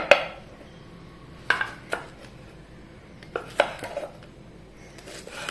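Okra being cut with a knife on a board, a handful of sharp separate chops spaced irregularly over a quiet room background.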